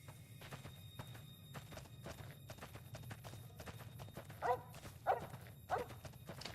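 A dog barks in Fallout New Vegas, a few sharp yelps near the end over a steady low game ambience with scattered footstep-like taps.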